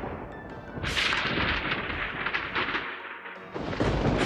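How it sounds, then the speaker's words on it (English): A thunderstorm in Hawaii gives a heavy, sustained rumble of thunder with crackling bursts, loud and close and fairly continuous, with no voices. "This is what it looks like when it thunderstorms in Hawaii."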